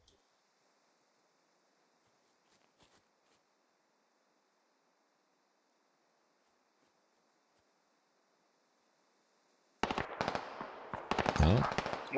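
Sustained suppressing gunfire in the tactical shooter Squad bursts in loudly near the end after a long near-silent stretch, a dense rapid roar of shots with a few faint thumps earlier.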